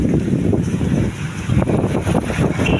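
Strong gusts of wind blow before a storm under a darkening, cloudy sky, buffeting close to the microphone as a continuous, uneven roar with surging swells.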